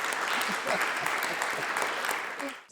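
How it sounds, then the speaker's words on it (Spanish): Sustained, dense applause from an audience at a gazpachuelo food event in a Málaga restaurant, a man being honoured; loud and steady, cutting off abruptly at the end. "Pues otro aplauso para ese señor"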